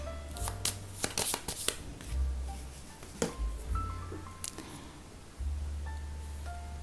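Tarot cards are shuffled and handled in close, soft bursts of riffling and flicking taps, with brief pauses between them and a faint background hum.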